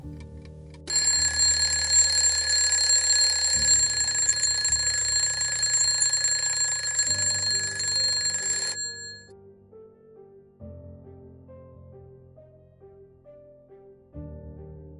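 An alarm clock rings loudly and continuously for several seconds, then cuts off, leaving a low droning musical background.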